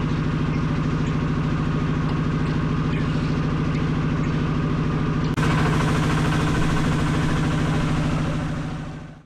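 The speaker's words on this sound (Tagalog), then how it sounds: "Kaya pasensya na po kayo kung medyo maingay yung makina." Steady, noisy engine running continuously at a constant idle, a close mechanical drone that holds unchanged before cutting off at the end.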